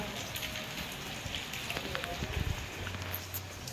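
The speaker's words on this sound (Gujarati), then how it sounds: "વરસાદ પણ આવી રહ્યો છે કાલ રાતનો વરસે હે વરસાદ" Steady rain patters down in a dense, even hiss, with occasional heavier drips and faint distant sounds underneath.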